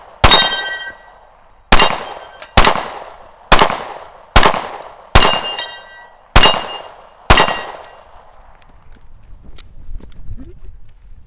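Gunshots during a timed shooting stage at a match, eight loud, sharp reports spaced roughly a second apart, each with a short ringing decay, followed by quiet low rumble.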